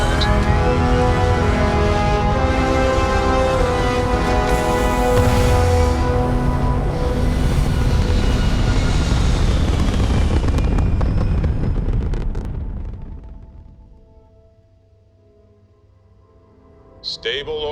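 A spaceship lifting off in the game Starfield, a loud sustained roar of engines with layered rumbling tones and a voice over it, easing into quiet before a faint new sound.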